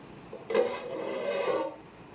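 Wedding-style Chennai biryani being stirred in a large pot after the dum lid comes off, a scraping, rasping rub of a ladle against metal and rice lasting about a second, close and moderately loud with no talking.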